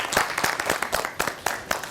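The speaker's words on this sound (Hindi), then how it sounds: "जोरदार तालियों से इस्तकबाल करते हैं डॉक्टर रमा सिंह साहिबा का" An audience on a Zee Salaam TV talk show greets a guest with a short burst of steady, brisk applause, moderately loud and close.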